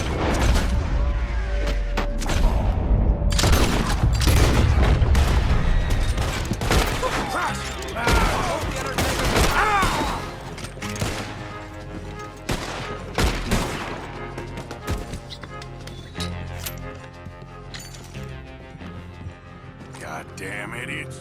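Gunfire in Red Dead Redemption 2, a loud fusillade of close shots and booms at the start, thinning into scattered single shots over a long stretch, with voices talking throughout.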